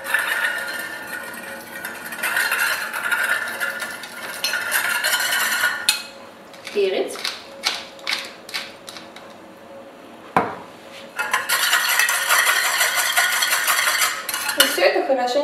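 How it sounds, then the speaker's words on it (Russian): A utensil stirring a tuna and Chinese cabbage salad dressed with balsamic vinegar in a bowl, with scraping and soft clinking against the dish in uneven bursts, pauses and a sharp knock in the middle, close and moderately loud. "И все это хорошенько перемешать надо."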